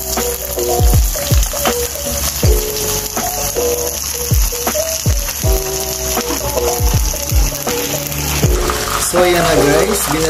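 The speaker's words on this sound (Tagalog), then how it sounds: "hintayin lang natin kumulo yung mantika and then sasalang na natin yung chicken wings" Chicken wings frying in hot oil give a constant sizzle, overlaid by repeated sharp clicking and ratcheting knocks from a nearby mechanism, loud and close throughout.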